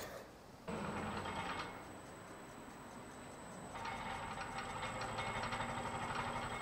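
A wood lathe spins a large, wobbly juniper stump at about 500 RPM, a loud steady mechanical whir with a rapid rhythmic ticking that swells partway through.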